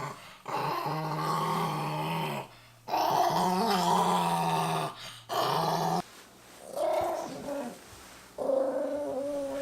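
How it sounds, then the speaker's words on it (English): A small dog growling while a sweater is pulled onto her, long rumbling snarls in several bursts with brief pauses between them, very close and loud, with no talk. "She growls at me like a gremlin."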